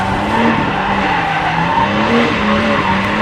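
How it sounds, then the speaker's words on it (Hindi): A car sliding sideways while drifting, with loud, sustained tire squeal and engine noise close by, and no talk over it. "स्लिप कर रही है गाड़ी"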